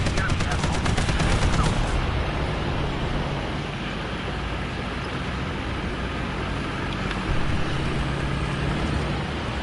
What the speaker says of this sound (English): I'm just gonna freaking machine gun you, dude.